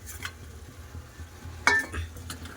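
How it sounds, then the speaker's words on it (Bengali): Fried fish heads go into a pan of lentil, potato and cauliflower curry, followed by soft stirring and scraping with a sharp clink of a utensil against the pot midway, with no talk. "এবার দিয়ে দেবো ভেজে রাখা মাছের মাথা"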